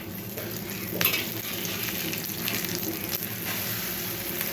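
An egg frying in a pan makes a continuous close sizzle and crackle, with a couple of sharper pops and faint clinks of utensils, and no talking.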